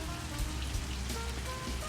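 Steady rain pattering on the ground outdoors during outdoor training in wet weather, a continuous close hiss of drops with no voices.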